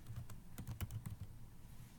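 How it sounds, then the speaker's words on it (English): Computer keyboard keys tapped in a quick irregular burst of close, crisp clicks, several rapid strokes clustered mid-way, then quieter room tone; no talking. "I'm just going to start typing somebody's last name"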